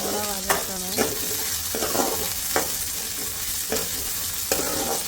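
Chopped tomatoes sauté in a hot pan for crab gravy, a steady close sizzle broken every second or so by the scrape of a stirring spoon, with no voices.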